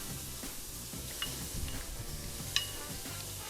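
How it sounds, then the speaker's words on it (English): Stuffed chicken browns in a hot pan, a quiet, steady sizzle with a few soft clinks as the meat is turned, and no talking. "we're just gonna turn this over and brown it on all sides"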